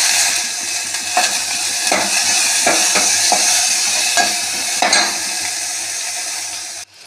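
Onion and tomato frying in a pan, with a loud steady sizzle and regular scraping strokes of a spatula stirring through the mix, close and alone.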